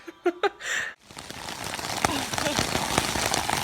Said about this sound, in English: I'm currently out here stuck in a storm. It just came out of nowhere. I think it's hailing too.